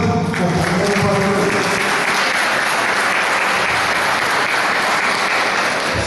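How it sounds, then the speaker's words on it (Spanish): A large audience at a teachers' union assembly bursts into sustained, dense applause that stays loud and steady throughout, with a faint voice mixed in. "Un aplauso"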